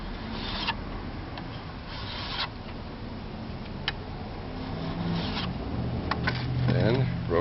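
A hand file rasps across a Norwalk juicer cutter blade held in a vice, with a series of short scraping strokes and light metallic ticks over quiet background noise.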